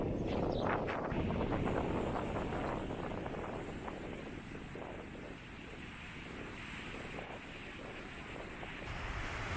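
Strong wind buffets the microphone on a Mediterranean beach, a loud steady roar with surf washing in underneath and lasting the whole stretch without a break.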